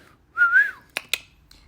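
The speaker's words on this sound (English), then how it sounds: "I'm going to do the whistle." A single rising and falling whistle from one person, followed by two quick sharp clicks or snaps, close to the microphone.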